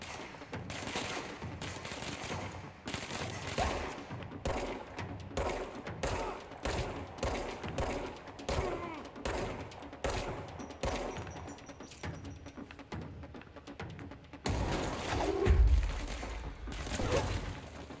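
Enemy machine gun fire in the video game Control comes in repeated rapid bursts, close and loud, broken by short gaps, with a heavier thud and rumble near the end.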